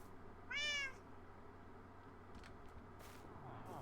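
A single short, bright meow from a cat in a Minecraft-style video game rings out clearly near the start, followed by quiet ambience with faint scattered clicks.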